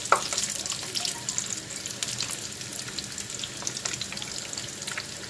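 Meat-stuffed pastels frying in a pan give a steady, fairly faint sizzle and crackle with scattered small pops, continuing evenly throughout.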